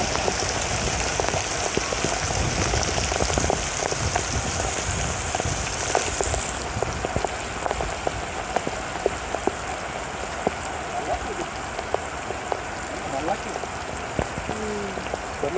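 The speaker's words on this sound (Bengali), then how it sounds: "মোটামুটি বড় বৃষ্টি অনেকক্ষণ ধরে হইতেছে" Heavy rain pours steadily on a village, a dense continuous wash of drops with scattered louder patters close by, going on without a break and no voices.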